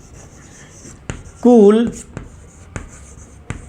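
Chalk or marker writing on a board during a Hindi-language physics lesson, short scratchy strokes tapping at intervals under a male teacher's speech, with a louder vocal burst partway through.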